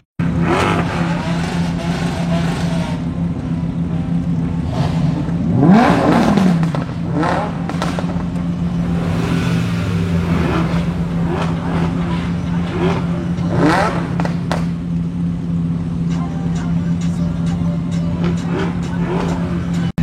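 Mercedes G500 4x4² doing a donut at a car meet, its loud engine droning close by and revving with rising and falling pitch, with brief tire noise and clatter over a continuous low rumble.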